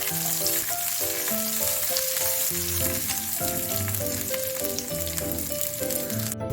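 Ginger and curry leaves sautéing in hot oil in a pan, a continuous loud crackling sizzle close up with bright tonal clinks mixed in, no talking.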